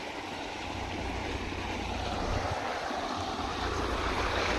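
Steady, loud rush of water gushing from a motor-driven pump, with a low motor hum underneath, continuous and close, with no voices.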